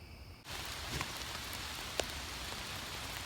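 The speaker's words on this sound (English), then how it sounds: "It's 2 days later, and there's clearly rain." Rain falls outdoors on a trail being built; after a brief quiet moment a steady, dense hiss of rain sets in and continues evenly, with one faint sharp tap partway through.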